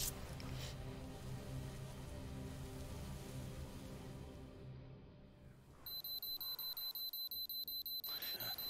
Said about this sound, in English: Bloody alarm.